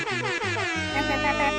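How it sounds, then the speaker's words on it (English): A loud DJ air horn blasts in quick stuttering bursts, then holds one long sustained blare. "Here's your nice. little DJ air horn."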